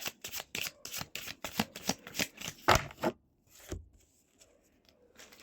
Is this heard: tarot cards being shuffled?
yes